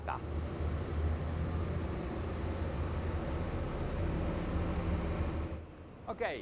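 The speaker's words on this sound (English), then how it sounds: "The first turbine has started and we're about to enter the planing mode." The gas turbine engine of an OTAM 70 HT performance motor boat drones with a deep, steady rumble and a high whine, continuous and close, fading near the end as a voice speaks briefly.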